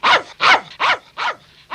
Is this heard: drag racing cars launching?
no